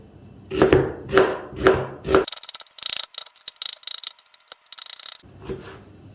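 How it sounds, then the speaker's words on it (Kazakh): A knife chops onion on a board in a home kitchen, four loud, evenly spaced thuds followed by a run of faster, lighter scraping and crunching cuts, all up close with no talking. "Жуанын да үлкенірек турап ала салайық осы жерде."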